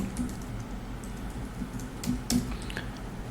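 Typing on a computer keyboard while setting text for a photography signature logo, a few soft, irregular key taps over a quiet background hum.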